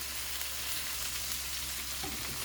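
Sliced bitter gourd (karela) frying in oil in a pan, a continuous even hiss and crackle close by, fairly quiet, with a faint stir or scrape near the end and no voices.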